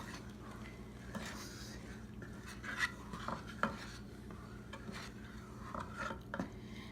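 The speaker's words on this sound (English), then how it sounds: "I'm going to stir it really nice" Sugar is stirred into milk in a pot for phirni, a faint scraping and clinking of a spoon against the pan with a few soft knocks, quiet and close with a low background hum.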